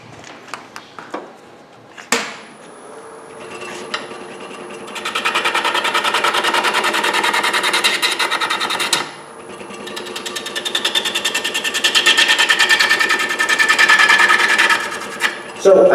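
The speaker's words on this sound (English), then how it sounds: "It's just efficient and versatile wood removal." Wood being turned on a lathe with a gouge, a steady buzzing, whirring cut that runs continuously with a brief pause midway, preceded by a few knocks and clicks as the tool engages.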